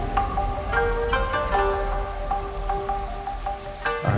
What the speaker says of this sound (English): I stood up at the balcony, covered from the rain, and watching the rain and hoping for the break.